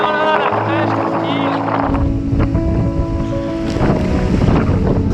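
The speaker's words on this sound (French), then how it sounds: "ça siffle, ça bourdonne dans les oreilles." Strong wind at about 15 knots roars and whistles over a racing sailboat, with water rushing and high whining tones rising and falling throughout.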